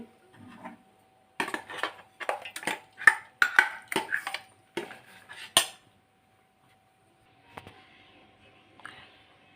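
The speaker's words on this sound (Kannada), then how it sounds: "ಈಗ ರುಬ್ಬಿದ ಕ್ಯಾರೆಟ್ನ ಅದಕ್ಕೆ ಹಾಕ್ಕೊಳ್ತೇನೆ" Ground carrot going into a pot for carrot juice, with a run of clinking utensil taps and scrapes against the pot, close and clear, then quieter stirring sounds.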